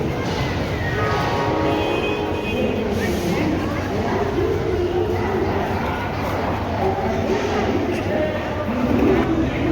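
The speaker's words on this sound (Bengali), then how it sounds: "দেখতে পাচ্ছ আমাদের ট্রেন ঢুকছে এখন স্টেশনে" A passenger train on a Kolkata to Jaipur trip pulls into a station with a steady, dense rumble of wheels and rolling stock that fills the whole stretch, with faint voices murmuring underneath.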